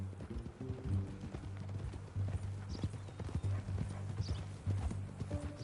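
Horse hooves clip-clop steadily in a video game on a ranch, a close, rhythmic trot running the whole time with a brief whinny and low music or ambience beneath.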